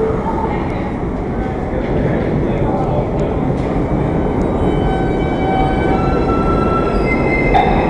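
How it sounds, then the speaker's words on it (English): A New York subway train pulls into West 4th Street station on the IND 6th Avenue Line, a loud, continuous rail roar with metallic wheel squeals, heard up close on the platform. "every time I go to shut it off, it's just another train pulls right in"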